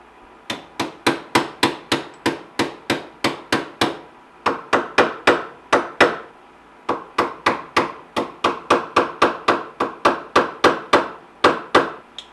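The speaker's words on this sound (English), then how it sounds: "let's just take that out with a hammer" A hammer repeatedly strikes a pin to drive it out of the piston arm of a Crosman 1377 air pistol, making sharp, evenly spaced metallic taps in quick bursts with brief pauses, close and loud.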